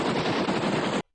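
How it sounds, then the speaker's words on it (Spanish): A burst of rapid gunfire rattles for about a second in recorded footage of the execution of Nicolae and Elena, loud, dense and continuous before cutting off abruptly. "Se escucha el sonido de los disparos."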